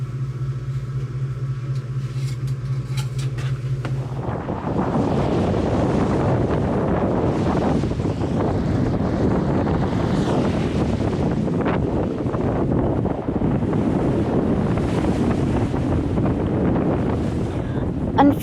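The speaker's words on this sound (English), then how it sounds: "when we arrived in the Saints, it was incredibly blowy. The wind and the seas made for a challenging arrival" Strong wind batters a cruising sailing yacht at sea near the Saints in the Caribbean, a steady loud roar of gusts and rushing water filling the whole stretch after a brief low hum at the start.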